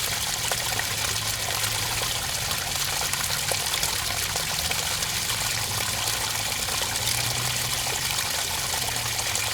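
Gray water gushes out of an RV holding tank in a steady, continuous splashing stream, loud and close, running without a break and without voices.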